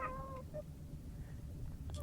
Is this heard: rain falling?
no